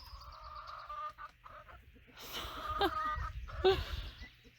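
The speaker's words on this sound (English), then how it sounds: "And then I'm going to let the meat chickens out here." Meat chickens clucking and murmuring close by, with a few sharper squawks and calls rising in the second half over a low background rumble.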